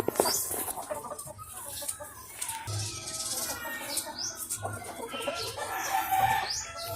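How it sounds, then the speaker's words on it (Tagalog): Rhode Island Red chickens cluck in a quiet mix of short calls and soft chatter, with a rooster crowing in the flock. "atong mga Rhode Island Red"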